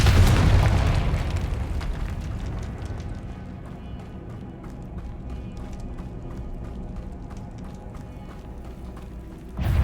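The Confringo fire spell in the Hogwarts Legacy video game bursts with a loud booming explosion at the start, then fades into a rumbling tail with crackling debris and ticking game sounds.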